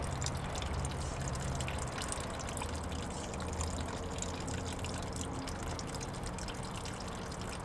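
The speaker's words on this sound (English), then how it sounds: "That's where I'm gonna be draining my coolant from." Coolant drains from the radiator drain cap of a third-generation Honda Prelude, a steady close trickling and splashing of liquid that runs without a break and with no talking over it.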